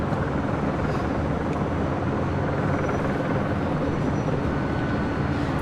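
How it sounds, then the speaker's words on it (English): News helicopters hover overhead at night near LAX, their rotor drone a loud, unbroken wash that fills the whole stretch with no pauses. "So we got the news choppers right above us here."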